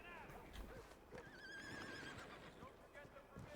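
A horse in Red Dead Redemption 2 gives a rising, wavering whinny over nearby hoofbeats and game ambience, with voices talking faintly alongside.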